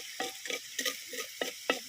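Onions frying in a pan until golden, a quiet close sizzle broken by a rapid series of about six short scraping stirs of a spatula, with no talking.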